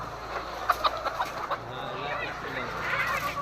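Chickens cluck in a few short, sharp bursts over a steady murmur of background noise, with voices talking nearby.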